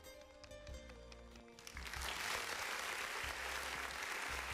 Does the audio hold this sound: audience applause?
yes